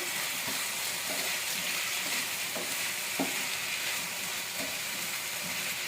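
Taro and potato pieces fry in a pan with salt and turmeric, a constant close sizzle broken by periodic spatula scrapes and knocks as the mixture is stirred; no voices.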